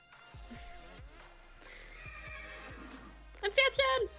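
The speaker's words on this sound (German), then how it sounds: "Ein Pferdchen!" A horse neighs in Minecraft, a short bright whinny near the end following a run of soft blocky game sounds and thuds, with a voice talking lightly underneath.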